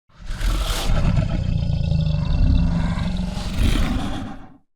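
A long, gritty dragon roar, loud and close, rough and heavily distorted with tube distortion, swelling twice before cutting off.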